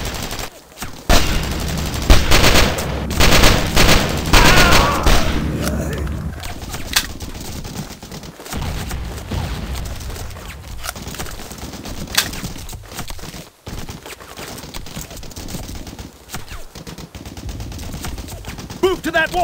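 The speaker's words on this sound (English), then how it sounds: "Keep firing, dammit! Keep firing!" Gunfire in the World War II shooter Brothers In Arms DS: dense bursts of rifle and machine-gun fire rattle loudly through the first half, easing into scattered shots and battle noise, with shouted commands over the fighting.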